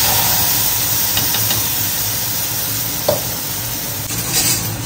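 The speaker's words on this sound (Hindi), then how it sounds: "और अब बन रही है यहाँ पे ग्वार की फली।" Cluster beans (guar) fry in a pan on an Indian home stove, a steady close sizzle and hiss with a few scraping stirs of a spoon through the pan, with no talking.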